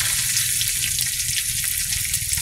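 Panch phoron spices and chopped dried red chilli crackle in hot oil, a steady close, continuous sizzle with a low bubbling underlayer throughout.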